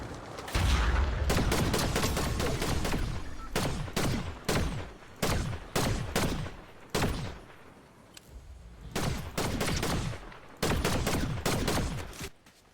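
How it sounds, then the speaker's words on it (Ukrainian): Rapid bursts of Fortnite gunfire crack out in repeated volleys, loud and close, with short pauses between strings of shots and no talking. "Звідки воно стріляє?"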